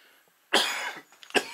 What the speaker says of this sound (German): Tut mir leid, dass ich so husten muss